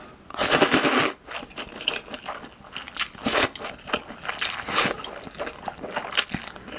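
Crunchy chewing of Korean soy sauce noodles with green onion kimchi, close and loud, in repeated bites and crisp crunches with short pauses between them, no talking.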